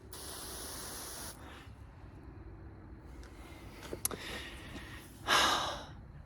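A 2-gallon Smith Contractor pump sprayer releases a steady, close hiss of spray for about a second. Softer mechanical noises follow, then a second short, loud burst of spray near the end.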